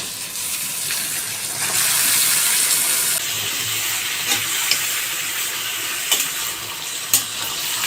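Marinated beef for a spicy beef achar fries in a pan with a steady, close sizzling hiss, broken by a few sharp clinks and scrapes of stirring; no voices.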